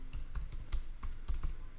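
Quick, close clicking of keys on a computer keyboard, a short burst of irregular taps with no talking.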